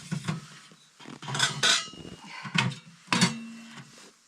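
Metal ash scoop and spark arrestor handled at a hot tent stove while camping in minus 30 degree Alaskan cold, a series of close metallic clanks and scrapes in uneven bursts, no talk.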